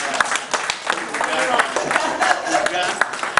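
Audience applause for a treasurer at a Nigerian sports journalists' convention, a steady burst of crowd clapping with scattered sharp claps and some voices mixed in throughout.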